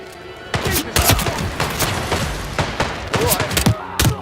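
Rapid bursts of gunfire in the stealth video game Hitman 3, loud and close, with sharp shots clustered in quick irregular volleys and a voice calling out between them.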